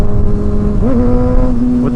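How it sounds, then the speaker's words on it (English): A motorcycle engine hums loudly and close, then its pitch rises sharply and settles at a higher idle tone as the throttle is blipped, with constant wind-like rumble underneath. "So you kind of blip the throttle, like, watch my hand."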